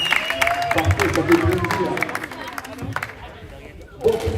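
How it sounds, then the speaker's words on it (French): A small audience at a junior league match applauds and cheers, a burst of clapping that fades out over a few seconds, with someone speaking over it near the end. "Faites-moi du bruit, s'il vous plaît. On applaudit."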